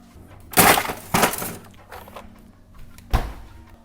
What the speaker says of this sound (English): Ice on the glass.